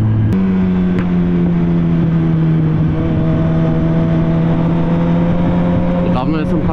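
Motorcycle engine holding a steady, loud drone with slight pitch shifts while riding through bends on slick, greasy asphalt, close to the rider, with a voice speaking over it.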